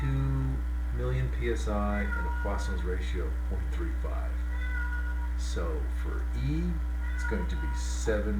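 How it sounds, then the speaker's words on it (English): A domestic cat meows now and then in the background while a man keeps lecturing steadily over a constant low electrical hum. "that's my cat who always complains"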